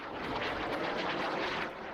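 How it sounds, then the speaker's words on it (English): Jet trainer aircraft with a single Rolls-Royce Bristol Viper turbojet at an airshow, a loud, steady broadband roar that holds evenly throughout with no voices over it. "It is powered by a single Rolls-Royce Bristol Viper turbojet engine."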